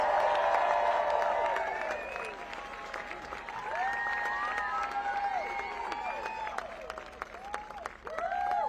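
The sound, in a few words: rally crowd applauding and cheering for Don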